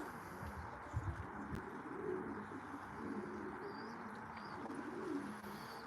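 Racing pigeons cooing softly at their loft, low repeated coos over a steady outdoor background with faint chirps from other birds.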